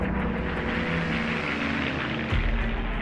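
A Spitfire fighter plane's engine roars steadily in flight, a loud continuous droning rumble with a slight shift in pitch near the end.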